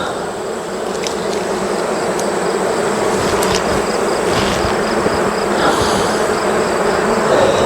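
A dense, continuous buzz comes from a large honeybee swarm at a strong hive, loud and close and steady throughout.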